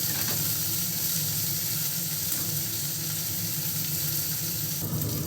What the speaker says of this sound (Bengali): উচ্ছে ভাজা হয়ে গেছে।